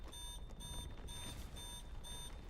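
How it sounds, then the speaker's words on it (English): An alarm sounds in a video game as a quiet, repeating electronic beep in short regular bursts over a low background hum. "Alarm sounds one after another."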